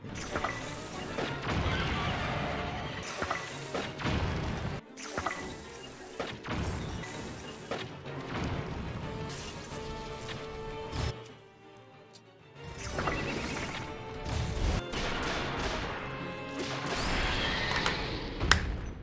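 Bombs explode at a mushroom in Zelda: Tears of the Kingdom, with repeated thudding booms and crashes amid dense game sounds and music, broken by a brief quieter lull midway before the impacts resume.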